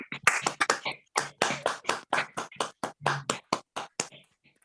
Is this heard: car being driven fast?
no